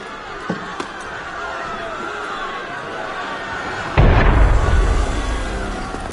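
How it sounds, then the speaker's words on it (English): Cannon fire in Assassin's Creed Unity lands as a single heavy booming blast with a long rumbling tail, breaking through a murmuring crowd of restless citizens. "That was cannon fire."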